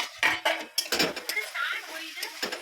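A lid going onto a cooking pot of curry in a home kitchen, heard as a few clattering, clinking metal knocks and scrapes in quick irregular bursts, fairly close, with no speech.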